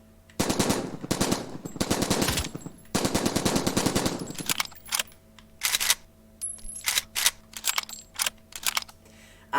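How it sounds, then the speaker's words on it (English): Scar assault rifle fire in the VR shooter Triton VR: long, loud automatic bursts at first, then shorter separated bursts and single shots with brief silent gaps between them. "We have the Scar, just a Scar. So, again, this is another assault rifle."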